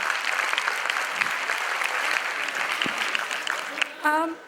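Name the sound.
audience clapping at debate competition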